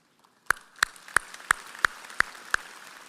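Seven crisp, regularly timed claps sound close and distinct over a hushed background during a San Jacinto College spring commencement, acknowledging a board member. No one speaks.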